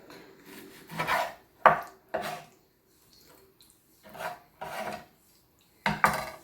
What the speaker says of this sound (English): You cut also the same size with the pork. This is a liver pork.